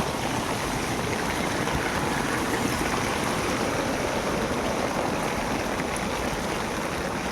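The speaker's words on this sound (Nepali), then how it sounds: "बाटोमा पानी छ साथीहरू" Water flowing along a village path, a continuous broadband rush and trickle close by, steady and fairly loud with no voices over it.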